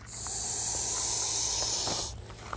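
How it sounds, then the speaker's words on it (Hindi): A loud, sustained hiss from a snake lasts about two seconds, close by, then stops abruptly, leaving faint rustling. "जब ये गुस्सा होता है तो इसी तरह कुकर की सीटी की जैसा आवाज़ निकालता है"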